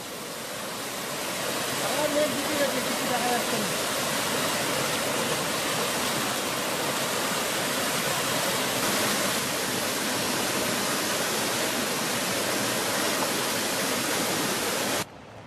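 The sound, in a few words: mountain waterfall on a trekking trail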